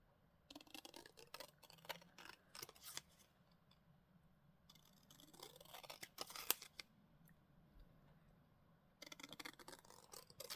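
Scissors trimming paper in quiet, close snips that come in quick irregular bursts, separated by short pauses and soft rustling, with no voices.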